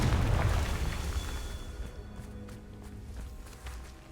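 A Confringo blasting spell explodes in Hogwarts Legacy, its heavy rumbling burst loud at the start and then slowly fading into a low, noisy tail with faint scattered ticks.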